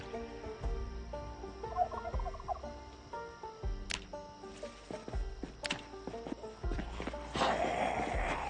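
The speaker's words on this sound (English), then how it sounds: "Assuming these are the turkeys." Turkeys in the survival game Project Zomboid gobble in short bursts, a few rattling calls scattered over quiet farm ambience with faint thuds and clicks.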